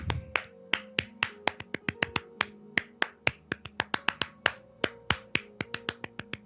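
Rapid hand clapping, a long run of sharp, close claps at an uneven but quick pace, loud and alone with no voices over it.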